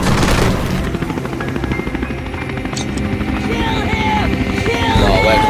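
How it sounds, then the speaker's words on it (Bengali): A helicopter in the video game World War: Fight For Freedom flies loudly with a steady, dense rotor chop and engine drone, mixed with game gunfire, while someone talks over it. "বিশাল বড় বিমান নিয়ে আসছে হেলিকপ্টার"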